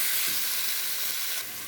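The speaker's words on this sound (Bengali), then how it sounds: "জিরে ফোড়ন দিয়ে দিচ্ছি" Cumin seeds sizzling in hot tempering oil for a fish curry, a bright, loud, close hiss that holds steady and then eases slightly near the end.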